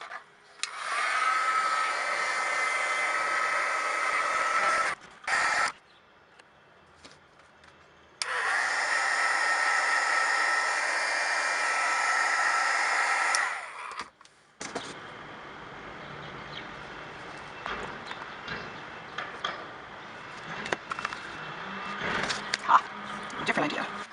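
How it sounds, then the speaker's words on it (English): A heat gun blows steadily on moldable thermoplastic being reshaped on a silicone pad, a loud broadband whoosh running in two long bursts with a short pause between, then quieter handling noises and rustling afterward. "I've decided to try a heat gun on this one."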